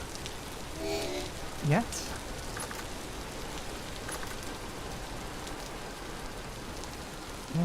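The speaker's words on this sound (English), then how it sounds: "Okay, decent amount of rain." Steady rain falls in the game Vintage Story, a dense, even hiss of drops on surfaces, with a person speaking briefly over it and a short tonal game sound early on.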